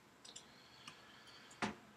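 A computer mouse clicking at a desk while browsing law firm partner listings online: a few faint, sharp clicks spaced apart, then one louder, fuller click near the end, with quiet room tone between.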